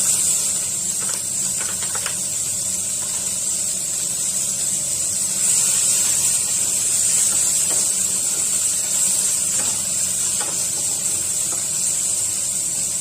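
Chopped onions frying over high flame in hot oil with panch phoron, the start of an Assamese fish curry with jackfruit seeds, giving a steady close sizzling hiss throughout with no one talking.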